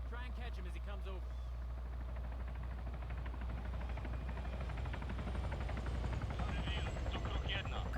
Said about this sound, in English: You hear that? Sounds like a helo.